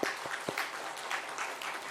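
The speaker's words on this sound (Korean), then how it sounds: "박수 한번 쳐주십시오." A congregation clapping at a church gathering, fairly quiet and distant, a few distinct claps up front merging into a soft continuous patter of hands.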